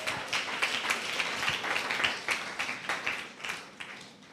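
Congregation clapping along during a Sunday church sermon, a steady run of many hands striking in rhythm, fairly faint and roomy.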